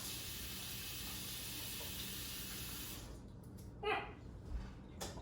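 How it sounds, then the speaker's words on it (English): A tap runs in a steady hiss of water for about three seconds as egg is washed off hands, then cuts off, leaving a few faint clatters and drips. "I always get egg muck on my hands, so"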